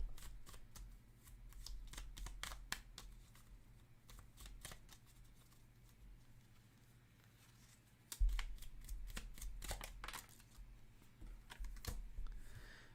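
Tarot cards are drawn and shuffled from a deck during a reading, making quiet, rapid papery flicks and taps in irregular bursts over a low background hum, with a soft bump partway through.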